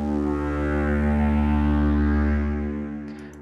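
Dark Planet synth zone layer from the Halion Crude Carrier preset: a dark, sustained drone with heavy low harmonics and a gritty, distorted edge, holding steady then fading out alone.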